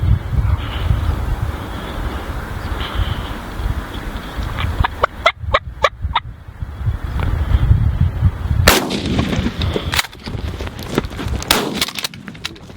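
A shotgun blast during a turkey hunt cracks out over steady outdoor wind noise, followed by several sharp, close impulsive pops and rustling.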